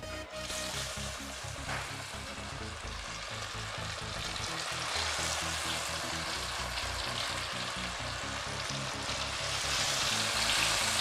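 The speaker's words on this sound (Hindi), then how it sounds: "अब बाकी के पीसेस भी इसी तरह से फ्राई करेंगे।" Pieces of spicy masala fish fry in hot ghee, giving a steady, dense, crackling sizzle that continues without a break throughout.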